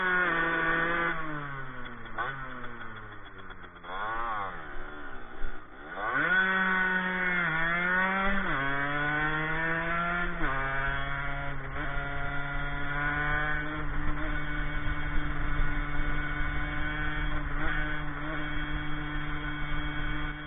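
A 50cc moped running on ethanol idles and then revs, its buzzing engine tone sweeping up and down in pitch before settling into a steady drone as it rides off, with no talking.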